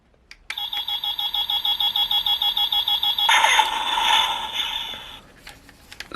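A Power Rangers SPD Canine Cannon toy blaster fires off a rapid, regular countdown of electronic beeps, then breaks into a louder, buzzy blasting effect that fades out, close and clear.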